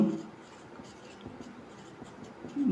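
A pen scratches softly on paper as an answer to a class 9 mathematics problem is written out by hand, a faint, continuous close-up scribbling in a quiet room.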